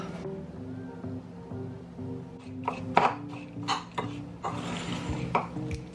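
A spoon scrapes and clinks in a bowl as apple crisp topping is stirred with honey and maple syrup, irregular close knocks and clatters, quiet background between strokes.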